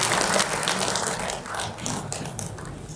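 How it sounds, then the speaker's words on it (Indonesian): Close, dense clapping from an audience welcoming two speakers at a religious lecture gathering, continuous and crackling for the whole stretch with no talk over it. "Kami persilakan tepuk tangan untuk narasumber kita berdua."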